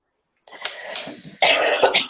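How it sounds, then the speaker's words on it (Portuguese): A person at home coughs several times in a short, harsh fit, close and fairly loud after a moment of silence. "tá uma tosse terrível aqui em casa"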